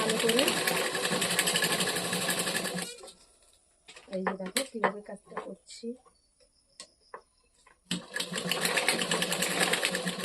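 A sewing machine stitches a bag made from a rice sack, running loud and steady for a few seconds, pausing while someone talks and handles the fabric, then starting up again at the same even pace.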